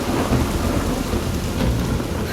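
A heavy rainstorm pours with thunder as a dramatic sound effect: dense rain hisses and patters on surfaces while deep thunder rumbles continuously and loudly underneath.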